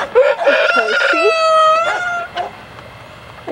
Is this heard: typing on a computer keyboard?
no